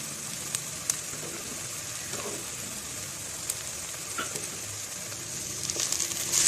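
Garlic, ginger and crushed green chili fry in a kadai with a steady, close sizzle and occasional light clicks of a spoon, growing a little louder near the end; no voices.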